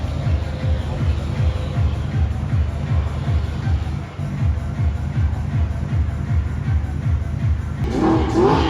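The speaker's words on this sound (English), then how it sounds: "Audi R8 revving at the light." An Audi R8 engine revving at a traffic light, a loud, close, rhythmic burble of repeated throttle blips pulsing steadily, with a sharper burst of noise near the end.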